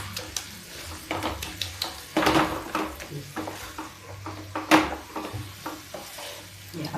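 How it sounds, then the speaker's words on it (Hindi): Mashed bottle gourd being fried and stirred in a pan, a soft steady sizzle broken by repeated scraping strokes of the spoon against the metal, close and moderately loud. "ये देखिए अब भून लेते हैं।"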